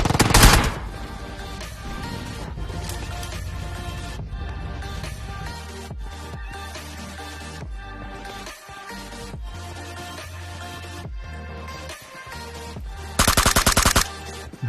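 An enemy squad fires in a battle royale video game, with loud rapid bursts of automatic gunfire and single shots repeating over a dense background of game sound.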